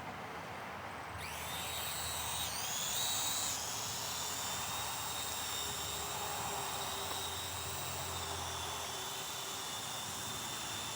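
A small Temu drone takes off and flies outdoors, its steady high-pitched propeller whine rising sharply at launch and then holding as a continuous close buzz.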